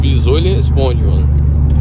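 A Volkswagen Gol 1.6 AP car on a rough road, heard from inside, with a steady loud low engine rumble and drone running through while someone talks over it.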